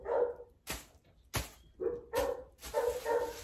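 Several dogs bark in short, sharp bursts, four loud separate barks over about three seconds with yips and some whimpering between, fairly close by with no talk.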